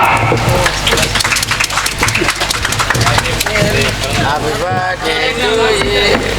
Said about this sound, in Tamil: எல்லாரும் கைதட்டுங்கம்மா